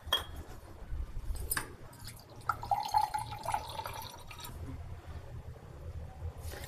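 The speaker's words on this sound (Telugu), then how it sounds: "ఇందులో వాటర్ పోసుకొని ఒక 2-3 సార్లు బాగా కడగాలి." Water is poured over moong dal in a bowl for rinsing, giving soft trickles and splashes with light clinks of the bowl, fairly quiet and close, and no one talks.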